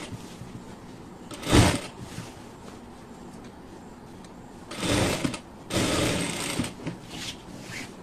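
A sewing machine stitches sleeves onto a garment in several short bursts of whirring, a brief run early and two longer runs later, with quiet pauses between and no talking.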